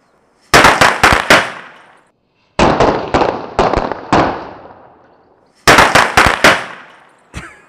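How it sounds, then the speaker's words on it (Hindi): Diwali firecrackers set on a 2-litre Pepsi bottle go off in three rapid volleys of sharp, very loud cracking bangs, each ringing out briefly, with a last lone pop at the end and no voices. "यहाँ पे पूरे 9 के 9 पटाखे फटे थे"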